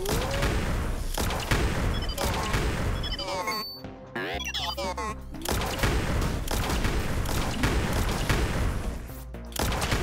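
Repeated shotgun blasts from a video game, loud and close, with bursts of booming impacts and crashes landing in rapid clusters across the clip and a brief quieter gap near the middle.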